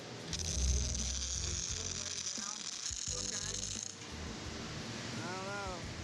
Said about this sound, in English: Put about a 1-inch weld right there.